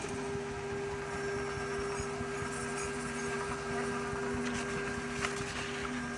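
A Focus Cobra-691s corrugated carton printer runs a nozzle check print. It gives off a steady, low mechanical hum with a faint, constant whine that holds evenly throughout at modest volume.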